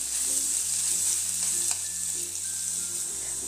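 Garlic-ginger paste frying in a pan on a very low gas flame, a continuous close sizzle with light stirring, no voices.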